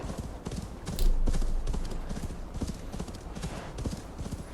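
Horse hooves clip-clop at a steady trot while riding through a snowy landscape in Assassin's Creed Valhalla, regular close impacts continuing throughout with a brief louder swell near the start.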